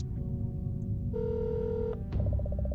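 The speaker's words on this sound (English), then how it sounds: "Call your mother and the phone rings twice before she picks up." A telephone ringing in a Goosebumps video game: a steady electronic ring tone sounds for about a second, followed by a pulsing repeated ring, heard clearly over a low background music bed.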